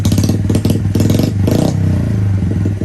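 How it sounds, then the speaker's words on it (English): A 2006-or-later Yamaha TTR-50 dirt bike fires up on its electric starter: a few loud, rough cranking bursts, then the small engine settles into a steady, close idle. "Now that we got a battery, we even got electric start."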